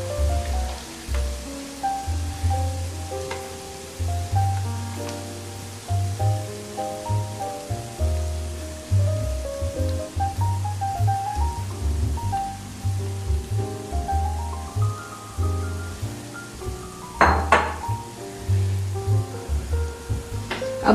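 Marinated chicken going into a pan of softened onions, giving a steady crackling sizzle that runs on for a long stretch, with some clinking and stirring on top.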